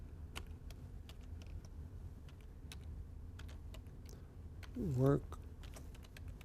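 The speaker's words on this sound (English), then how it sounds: "Again, I can just read it off the top and type it in." Light, irregular keystrokes on a computer keyboard as a work order number is entered into reporting software, soft and close over a low room hum, with a brief word spoken partway through.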